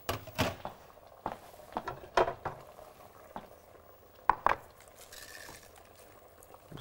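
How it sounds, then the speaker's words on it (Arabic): Kibbeh meat mixture being mixed by hand, with soft wet squelching and patting in irregular bursts, close and fairly quiet, with no talk. "هنخلطها بايدينا دلوقتي."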